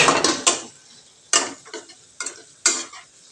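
A spoon scrapes and stirs ground masala of coconut, peanuts, ginger, garlic, coriander and curry leaves roasting in a pan over low heat, in short rhythmic bursts of scraping with faint sizzle between, close and without talk.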